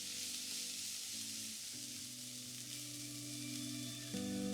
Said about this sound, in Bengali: এবার এই পেঁয়াজগুলোকে কুক করার জন্য একটা ফ্রাইং প্যানে আমি নিয়ে নিচ্ছি সামান্য একটু সাদা তেল।